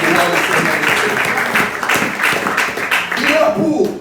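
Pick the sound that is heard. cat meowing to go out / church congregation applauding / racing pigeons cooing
church congregation applauding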